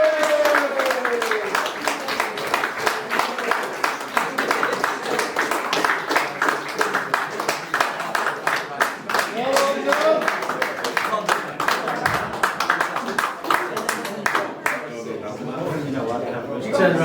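An awards presentation audience claps and cheers steadily for the whole stretch, a dense, continuous patter of many hands filling the room, with voices mixed into the crowd noise.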